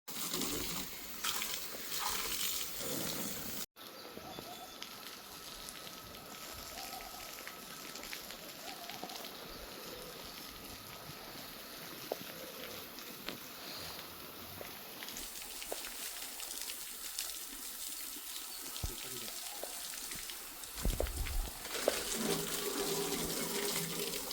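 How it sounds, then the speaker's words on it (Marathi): Running water sprays steadily while vehicles and a tractor are washed outdoors at a home on Lakshmi Puja day during Diwali, a continuous close hiss that lasts the whole stretch with slight shifts in texture. "हे पाणी म्हणजे हे धुवत आहेत गाड्या आणि आमचं ट्रॅक्टर वगैरे"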